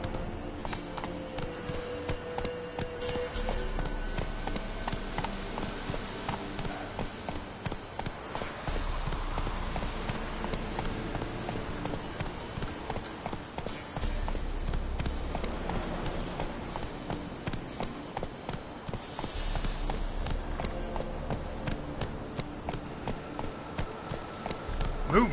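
Horse galloping in The Witcher 3: Wild Hunt, a steady rhythmic clip-clop of hooves running under game music and ambient sound, continuing without pause.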